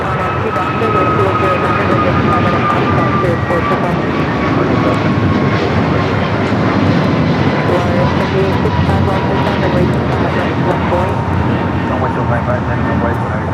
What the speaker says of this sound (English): American Airlines 2447 on the A321neo.